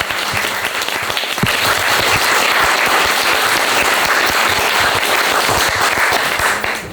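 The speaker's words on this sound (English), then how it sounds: "a huge round of applause to" An audience at a Q&A event with artist Maggie Scott and Fehinti Balogun breaks into loud, sustained applause, dense clapping filling the room for several seconds before easing slightly.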